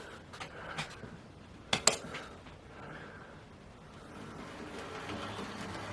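A Hornby Lord Nelson Class model locomotive runs along a model railway track, a faint low rumble with a few sharp clicks and clacks as it moves, quiet and close, without any talk.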